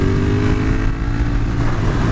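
Motorcycle engine revving hard as it accelerates with a clutch pop for a wheelie, a loud, steady, close roar with no one talking.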